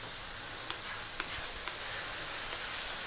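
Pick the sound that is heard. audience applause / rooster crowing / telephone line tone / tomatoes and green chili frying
tomatoes and green chili frying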